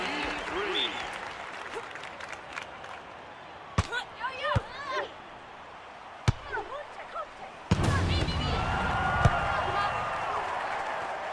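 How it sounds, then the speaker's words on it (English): An arena crowd at a 2012 Olympic event bursts into loud cheering and applause, with sharp ball impacts and squeaking shoes between rallies and a large roar swelling near the end, with a commentator talking over it. "The crowd go wild and they respond."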